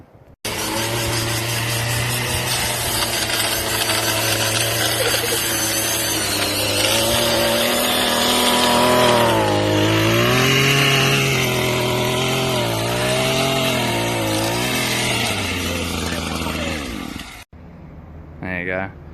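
A Ryobi edger fitted with brush-cutter bull bars runs close and loud, its engine drone steady with small wavering rises in pitch before cutting off abruptly near the end; a voice talks briefly over it.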